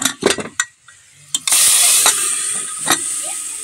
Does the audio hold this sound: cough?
no